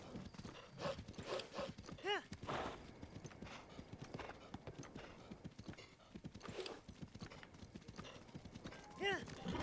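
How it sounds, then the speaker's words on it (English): A horse in the video game Breath of the Wild gallops with rapid, continuous clip-clop hoofbeats, and a couple of whinnies cut through while people talk over it. "The horse noises are so crazy."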